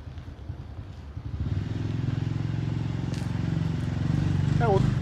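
A motorcycle on a Hanoi street runs with a close, growing engine drone that gets louder toward the end, while people talk nearby over it.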